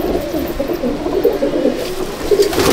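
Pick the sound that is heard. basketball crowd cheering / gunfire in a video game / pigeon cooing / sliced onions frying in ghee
pigeon cooing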